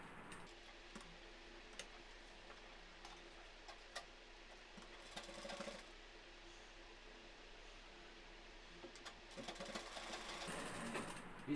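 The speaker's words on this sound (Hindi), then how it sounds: "उसी में हम एक और सिलाई देंगे।" Sewing machine stitching seams joining the two panels and seat of men's trousers, a quiet, fast, steady ticking run with brief pauses and faint handling of cloth.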